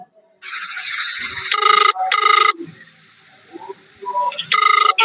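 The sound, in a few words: phone ringing with an incoming call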